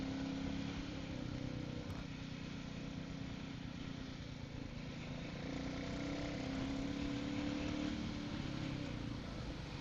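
A motorcycle rides through downtown Guelph, Ontario, its engine a steady, continuous drone with road and wind noise and no clear rises or pauses.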